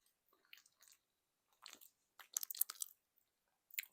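Close, quiet crunchy chewing on food, a series of short crisp bites and crunches in irregular bursts separated by silence.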